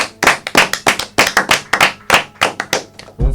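A small group claps in an uneven, rhythmic pattern, each sharp clap close and loud, repeating steadily for a few seconds with no talk.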